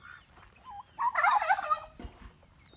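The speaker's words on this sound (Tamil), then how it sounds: "எல்லாமே பியூர் நாட்டுக்கோழி" A Peruvidai native country chicken lets out a loud, burbling call for about a second, with softer clucks before and after over a quiet background on a chicken farm.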